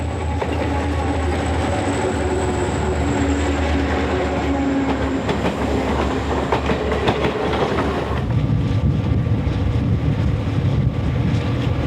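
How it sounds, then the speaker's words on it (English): Algoma Central northbound tour train rounding Ojadaki Lake, passing loud and close with a continuous rumble, rattling cars and wheel clatter, wind buffeting the microphone, and the tone shifting as it goes by. "the northbound tour train rounds Ojadaki Lake, then passes the weekly way freight"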